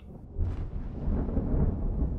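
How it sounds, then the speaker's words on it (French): Thunder rolls from a storm over the Le Mans circuit, a deep low rumble that swells after a brief crack and keeps grumbling through the short stretch, with no voices. "Un orage vient de s'abattre sur le Mans et la piste est complètement détrempée."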